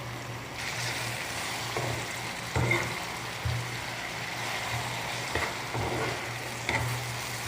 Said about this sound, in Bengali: এই যে পেঁয়াজ মধ্যে থেকে এখন টমেটো দিতেছি